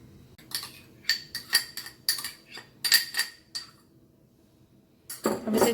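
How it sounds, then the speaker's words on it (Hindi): A spoon mixes black chana chaat in a bowl, giving a series of close clinks and scraping taps in irregular bursts, with a pause before a final stir. "अब इसे अच्छे से मिक्स कर लेते हैं।"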